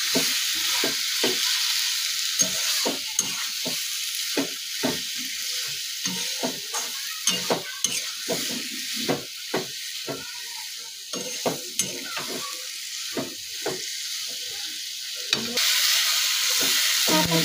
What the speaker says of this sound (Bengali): এবার একটু ভালো করে কষালাম।